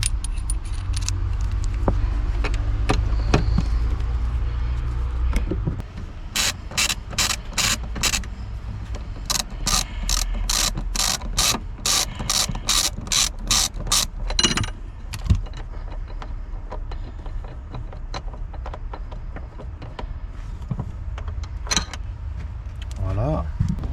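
A ratchet works on the size 40 seat belt anchor screws of a Peugeot 308, giving a close run of evenly spaced, sharp clicks, with car-interior handling noises and someone speaking around them.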